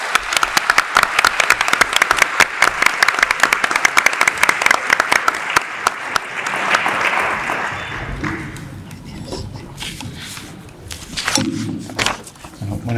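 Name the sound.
applause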